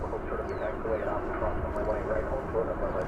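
Airbus A321 airliner in Piedmont Heritage livery at DFW Airport, a steady broad engine roar at moderate distance, with talk over it.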